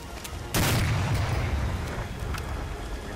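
A heavy burst of gunfire and explosions breaks out in the World War II shooter Medal of Honor: Allied Assault Breakthrough during a fight with a tank, a loud boom followed by sustained rumbling fire and a few later cracks.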